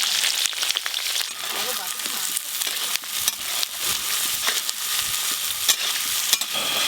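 A large batch of chopped onions fries in mustard oil with cumin and bay leaf in a home Bengali kitchen, sizzling loudly and close as a spatula repeatedly stirs and scrapes the pan, with no talking.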